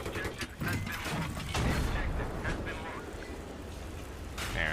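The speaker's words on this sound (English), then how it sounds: "you can hear my engineers repairing me again right now" Battlefield 3 engineers repair a tank with repeated metallic ratcheting and clanking amid heavy battle noise, close and steady under the game's dense soundscape.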